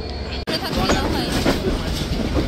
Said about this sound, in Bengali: নির্ধারিত সময় অর্থাৎ সকাল 7:40 ট্রেনটি রাজশাহী রেলওয়ে স্টেশন ছেড়ে যাচ্ছে